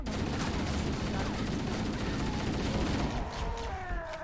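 Gunfire in the video game Halo Combat Evolved, rapid overlapping bursts of shots forming a continuous fusillade, loud and close, with mechanical clatter and whining tones toward the end and no talk over it.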